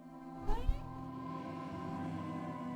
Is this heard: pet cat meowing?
yes